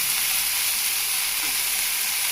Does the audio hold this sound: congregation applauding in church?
no